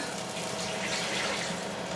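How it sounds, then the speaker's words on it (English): Beef stock poured into a pressure cooker, a steady close liquid gush and splash that runs unbroken for about two seconds, fairly quiet, with no talking over it. "We're going to pour in our beef stock"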